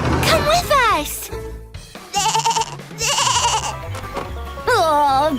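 A cartoon baby goat bleats in several wavering, drawn-out cries on a barnyard farm, interleaved with lively animated voices talking.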